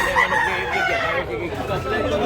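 White Hatch gamefowl rooster crowing at Tabunok, Talisay, Cebu, a loud, continuous call over steady background chatter and bird noise.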